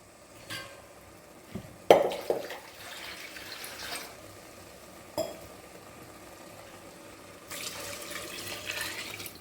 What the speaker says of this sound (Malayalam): രണ്ട് ഗ്ലാസ് അരിക്ക് ഞാനിവിടെ നാല് ഗ്ലാസ് വെള്ളം ഒഴിക്കുന്നുണ്ട്